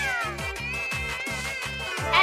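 Cartoonish cat meowing from the video game Miitopia, a repeated series of rhythmic meows over game music, loud and close.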